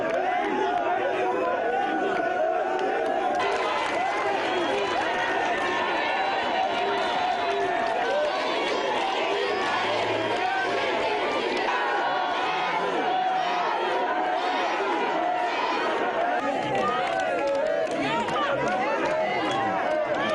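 A dense crowd massed to greet Guinea's head of state, Alpha Condé, fills the air with loud, continuous cheering and chatter, with shouts rising above the din and voices talking throughout.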